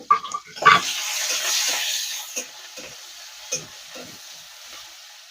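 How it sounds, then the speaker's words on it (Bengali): Shrimp frying in mustard oil in a wok, a sharp sizzle bursting out as the shrimp hit the oil, then settling into a softer crackle with a few spoon stirs. "চিংড়িটা একটু ভেজে নেবো।"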